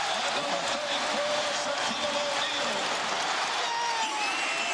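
A basketball arena crowd cheers in a steady, roaring wash of noise throughout, loud and unbroken, with a commentator talking over it.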